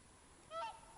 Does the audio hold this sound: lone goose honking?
yes